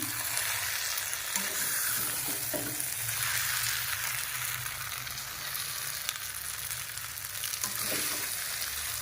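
Chowmein being mixed in a frying pan, a loud continuous sizzle with occasional stirring scrapes and clatters, heard close with no voices.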